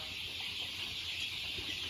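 Three-blood crossbreed chickens on a Thai farm cluck softly and intermittently over a steady hiss of background noise, faint and somewhat distant, with no talk.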